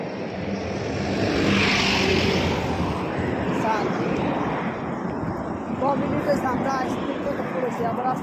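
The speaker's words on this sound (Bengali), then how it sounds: "প্রচুর গাড়ি আইতেছে" Heavy roadside traffic of lorries and motorcycles passing close by, a continuous loud engine roar and rumble that swells and fades as vehicles go past, with voices talking over it.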